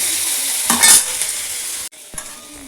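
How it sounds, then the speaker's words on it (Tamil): Onion and green chili sautéing in a pan: a close, steady sizzle with a louder burst of scraping as the mix is stirred, then a brief drop and quieter frying with a single spoon clink. "ரெண்டையும் நல்லா வதக்கிடுங்க வெங்காயம் பச்சை வதக்கிடுங்க"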